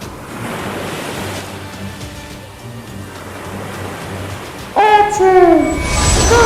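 A storm at sea in an animated drama brings loud, continuous crashing waves and rushing wind. A sudden surge comes near the end, with a brief voice-like cry over the roar.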